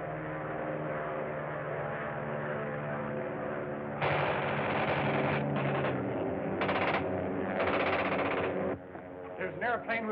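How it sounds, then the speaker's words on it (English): Rapid machine-gun fire aimed at an aircraft in a 1937 stratosphere adventure, a dense rattling burst layered over a droning engine, loud and continuous with brief gaps. "With a machine gun attacking us"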